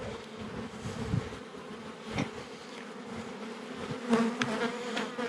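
Honeybees buzzing inside an open hive during a swarm-control inspection, a dense steady drone of many insects close by with louder passes as individual bees fly near, no voices.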